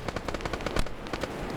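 Infantry open fire in a video game match, a rapid, uneven burst of rifle and machine-gun shots cracking in quick succession, moderately distant and sustained throughout.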